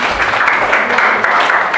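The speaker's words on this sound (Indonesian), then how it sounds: "beri tepuk tangan buat Mbak Hani." Applause from a school classroom, Year 9 students clapping together in a dense, steady patter that fills the whole short stretch at a moderate, close level.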